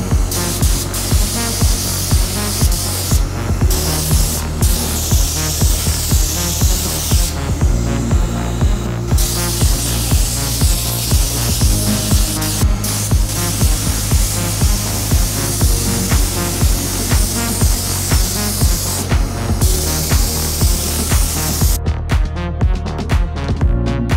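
A spray gun spraying automotive paint hisses continuously at close range, a steady loud spray with brief pauses and a rhythmic mechanical pulse underneath.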